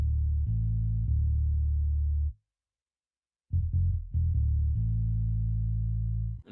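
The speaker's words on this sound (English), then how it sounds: "It's a Scar B Rickenbacker bass, the Raven preset with 2 tone knobs," Scarbee Rickenbacker bass on the Raven preset with both tone knobs turned fully down plays a dark, muffled repeating pattern of sustained low notes, broken by a silent gap and then a quick fill lick before the line resumes.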